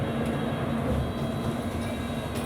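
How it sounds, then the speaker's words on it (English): A TfL Rail Class 345 train rumbles past close by with a continuous low roar and a steady tonal hum that holds loud for a couple of seconds. "TfL Rail Class 345 to Reading"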